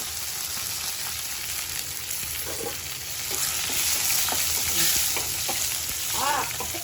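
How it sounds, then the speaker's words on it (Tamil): Dried red chillies and curry leaves crackle and sizzle in hot oil, a continuous frying hiss that swells louder midway, with a few spoon scrapes and stirring sounds and no speech. "கருவேப்பிலை போட்டுங்க. இப்போ நம்ம கூட வந்து வரமிளகா போட்டுக்கலாம்."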